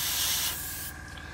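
Clear coat sprayed from a can onto a model head-up display for an Airfix 1/48 Hawker Sea Hurricane Mk.Ib kit, a steady close hiss of aerosol that eases off partway through.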